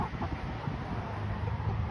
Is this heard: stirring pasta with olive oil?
no